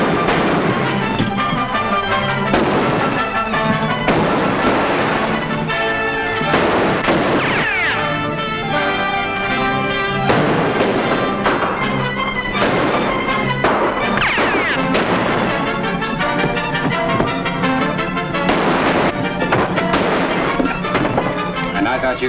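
Gunshots ring out in a Western film shootout, with rapid bursts and sharp cracks scattered throughout, mixed with music and shouting voices.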